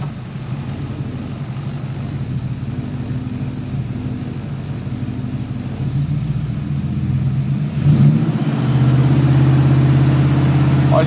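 A Ford 302 V8 with an unbalanced clutch idles steadily in a workshop, then revs up in stages toward about 3000 RPM, growing louder and higher in pitch, with a sharp surge near the end.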